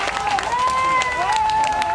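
Hong Kong newspaper staff gathered inside their building applaud one another, loud sustained group clapping with voices and cheering over it.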